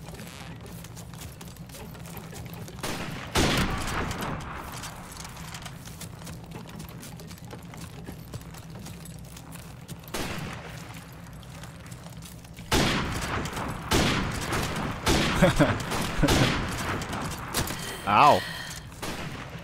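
Sniper rifle shots from Call of Duty Modern Warfare Remastered sound as sharp, loud, separate cracks spaced several seconds apart, with a player talking and exclaiming between them.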